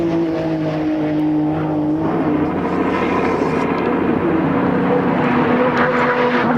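A Group A touring car races at Mount Panorama, its engine droning loudly and continuously as it holds power down the road, with a steady roar and gentle shifts in pitch.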